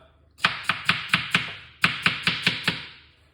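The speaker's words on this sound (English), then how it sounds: "I'm removing the skin from the cucumber." A knife chops through a cucumber on a board in two quick runs of crisp, evenly spaced cuts, close and clear.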